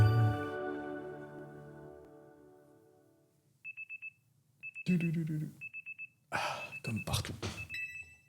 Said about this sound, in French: Votre réveil sonne.